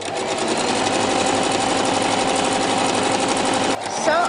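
A sewing machine runs fast and steady, stitching a girl's circle skirt with a ribbed waistband, its buzzing motor hum continuous and close before briefly pausing near the end, with a voice speaking over it.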